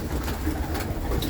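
Pigeons kept by a fancier in Old Delhi coo softly amid a dense flock murmur, low steady throbbing calls with faint higher chirps, close and continuous without speech.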